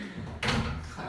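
A drawer in a high school toolbox slides open with one quick scraping rush midway through. The sound is close and moderately loud over a low background hum.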